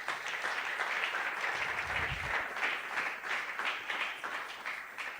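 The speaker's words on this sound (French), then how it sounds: "Est-ce qu'on peut acclamer très fort le Seigneur?" A church congregation at a Sunday worship service applauds steadily, a dense wash of many hands clapping at a moderate distance that holds even throughout, with no voices standing out.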